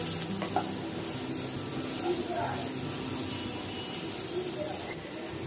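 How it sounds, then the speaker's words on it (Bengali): Onions softening in hot oil in a pan for a Bengali hilsa fish dish, a steady close sizzle with occasional stirring scrapes running the whole time. "ওই তেলে এবার কিছুটা পেঁয়াজ ভাজি করে নেব।"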